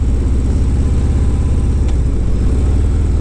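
A motorcycle engine drones steadily while the bike is ridden, a loud, continuous low rumble with a regular pulsing beat close to the listener and no talking.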